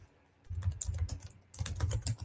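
Typing on a computer keyboard while filling in a Google Form: two quick bursts of close, crisp key clicks separated by a short pause, with no voices.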